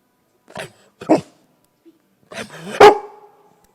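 A dog barks in short bursts: two separate barks near the start, then a louder, longer bark and yelp near the end, close and clear, with no talking.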